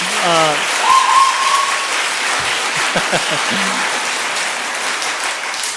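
A church congregation at a Korean worship service breaking into loud, sustained applause throughout, with a few cheers and voices mixed in close by.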